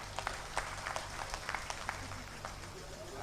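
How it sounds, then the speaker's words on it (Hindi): Audience applause at a Hindi kavi sammelan, a comic and satirical poetry gathering in Nimboda, Bhinmal: scattered, fairly faint clapping from a crowd, uneven and not very dense, running steadily with a low background hum. "तालियां बजाकर देश के बड़े व्यंग्यकार को आवाज दीजिए।"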